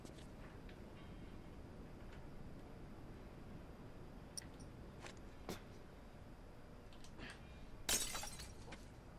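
A glass bottle shatters in the video game The Last of Us, a sharp breaking crash near the end over a quiet, rumbling game ambience with a few faint clicks earlier.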